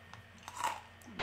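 A pretzel being bitten and chewed close to the microphone gives a short, faint crunch that swells in the middle and fades, with no speech over it.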